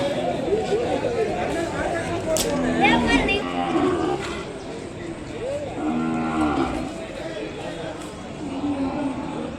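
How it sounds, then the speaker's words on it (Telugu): Cows moo several times at an Ongole cattle market, their low calls rising over a busy crowd murmur and nearby talking. "ఆవు. ప్రెగ్నెంట్ కవి ఇది."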